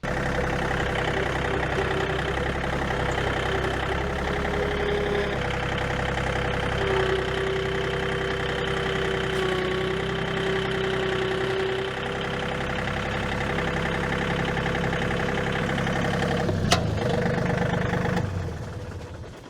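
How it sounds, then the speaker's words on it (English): A John Deere 3203 tractor's diesel engine idles steadily nearby with a low, even chugging hum that runs unbroken, a faint clunk near the end before it quiets. "So this tractor is a John Deere 3203."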